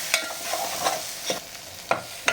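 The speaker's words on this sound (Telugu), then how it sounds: "ఒకసారి కలుపుకుందాం." Bheja fry with salt, coriander powder and a pinch of masala being stirred in a pan, a close, steady sizzle with five evenly spaced spatula scrapes against the metal.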